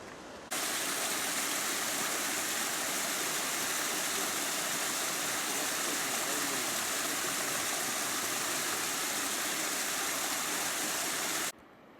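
Waterfall and stream rushing in Glacier National Park, a loud, steady broadband roar of flowing water that holds constant for about eleven seconds before cutting off, with no voices.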